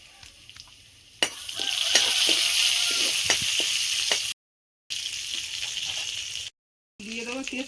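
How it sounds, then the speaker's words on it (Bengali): Grated garlic and whole cumin seeds fry as a tempering in a hot pan, a loud bright sizzle with clinking stirring strokes, broken by short silences. "ফোড়নটা ভালো করে ভেজে নিয়েছি"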